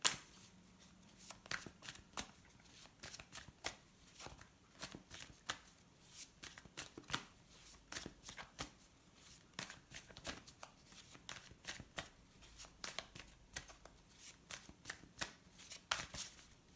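Tarot cards are shuffled by hand in a quiet room, producing a long run of soft, close riffling flicks and slaps in a quick, irregular rhythm.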